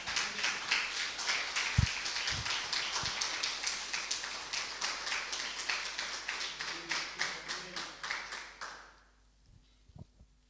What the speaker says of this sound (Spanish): Vamos a darle un aplauso a nuestro Rey.